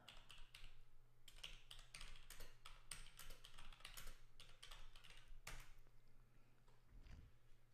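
Rapid typing on a computer keyboard, close and clear, with bursts of key clicks and a few short pauses, then trailing off near the end over a low steady hum.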